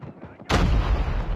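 A loud, close gunshot blast bursts out in a shooter video game after a quiet moment, its heavy boom and ringing tail filling the rest of the short stretch.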